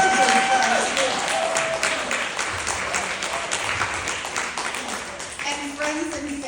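A holiday party audience claps in a dense, steady round of applause that fills the whole stretch, loud and close, while voices talk over it and a few shouts rise near the end.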